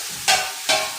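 Rice stick noodles tossed in a hot pan, two short bursts of stirring with a sizzling hiss, up close and without any voices.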